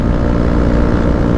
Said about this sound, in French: Moi je voulais que ma moto fasse un bruit un peu plus badass quoi.